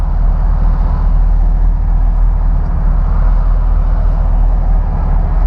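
A 1931 Ford Model A engine drones loud and steady while driving, a constant low rumble with road noise and no voices.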